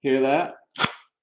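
A wooden spine roller gives one short, sharp snap as it is adjusted, close to the microphone, right after a brief spoken phrase.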